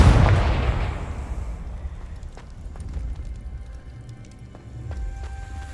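A Confringo fire spell in Hogwarts Legacy bursts with a loud, sharp explosive blast at the start that decays into a crackling, rumbling tail, followed by scattered small impacts and clicks.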